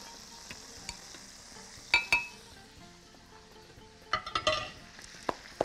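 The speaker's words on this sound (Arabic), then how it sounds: "طيب نقلب دلوقتي الفراخ الناحية التانية" Lemon-sauce chicken thighs sizzling quietly in a pan, with a few sharp clinks and scrapes of a utensil as the pieces are turned, close and without talk.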